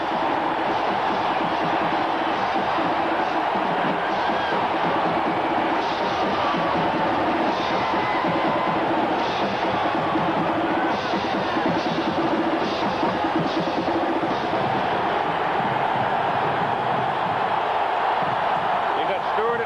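Stadium crowd of more than 86,000 at a 1991 Alabama versus Tennessee college football game, a dense steady roar filling the whole clip with swelling cheers, with a commentator talking over it.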